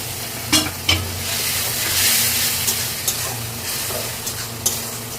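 Spice masala is sautéed with a splash of water from boiled rajma beans, giving a steady close sizzle and hiss broken by several sharp stirring scrapes of the spoon against the pan.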